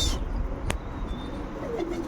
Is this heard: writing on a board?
no